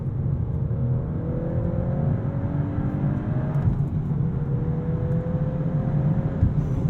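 Hot hatch engine revving hard under throttle while exiting a curve, a steady loud drone with rising pitch sweeps, heard from inside the cabin.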